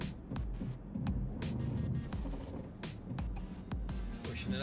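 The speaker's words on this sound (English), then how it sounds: "going to do some serious rut driving and get some wheels off the ground" A 2017 Jeep Compass crawling off-road over deep ruts, its engine a steady low rumble close by, punctuated by repeated knocks and clunks from the suspension and tires.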